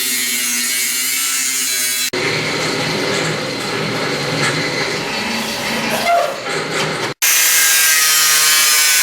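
A hand saw cuts through wood while trimming a part to fit during installation of a second fuel tank in an overlander vehicle, with about five seconds of close, continuous rasping strokes between quieter stretches of workshop noise.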